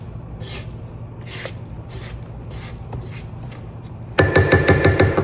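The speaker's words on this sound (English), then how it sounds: "I'm gonna scrape down the sides because for some reason it's fluffed up on the sides" A spatula scrapes pound cake batter down the sides of a mixing bowl in repeated soft rubbing strokes, then a louder mixer-like whir with rhythmic pulses takes over near the end.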